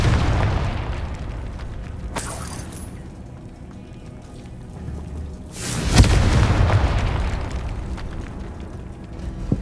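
Spell blast from the Confringo fire charm in Hogwarts Legacy, heard as two loud bursts a few seconds apart, each a sudden broadband crack with a rumbling low tail over a steady game backdrop.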